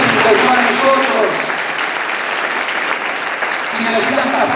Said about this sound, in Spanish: ¿No querés darle un aplauso al Señor?